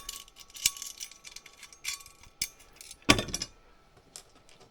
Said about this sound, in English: take a washer and a nut.